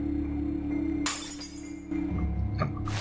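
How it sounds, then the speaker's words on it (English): Mirrors shatter in the video game Pocket Mirror, a sudden crash of breaking glass followed by a second smaller break and tinkling over a steady background game drone. "she's breaking loads of mirrors"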